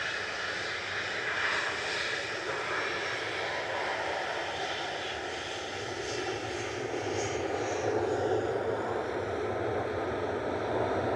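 Jet engines of a Ryanair airliner at Manchester Airport give a sustained, fairly loud rushing roar with a high whining edge, continuous and unbroken, with no talking.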